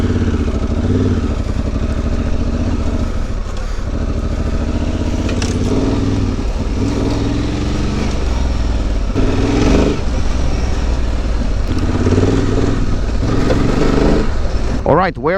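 A Honda Transalp 750 rides off-road on gravel in off-road mode, with a loud, steady engine drone close by and varying slightly in pitch, plus faint crunch and clatter, and a rider's voice occasionally heard over it.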